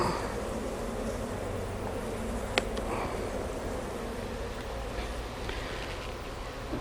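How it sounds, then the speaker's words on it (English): A steady, close buzz of an angry honeybee at an open hive, droning on continuously, with a brief sharp click partway through. "I think I angered a bee because it flew at my hive tool and tried to sting the hive tool"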